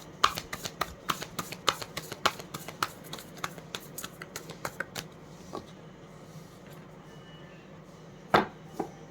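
Tarot cards shuffled by hand, close up, with a quick series of crisp riffling clicks for about five seconds, a short pause, then one last burst of shuffling near the end.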